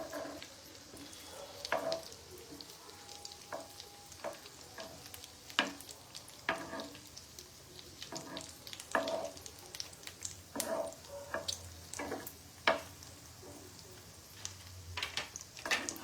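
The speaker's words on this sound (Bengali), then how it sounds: "কোপ্তাগুলোকে ভাজতে হবে।" Paneer koftas fry gently in oil with a soft, steady crackle and scattered sharp pops and spatters, faint and close, with no voices.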